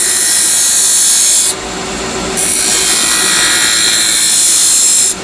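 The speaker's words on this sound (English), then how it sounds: "I'm using the detail spindle gouge right now. We're going to press and rotate in." Detail spindle gouge cutting into a spinning wooden chess king piece on a lathe, a steady loud scraping whir with a high hiss that briefly eases midway and then resumes, with no talking.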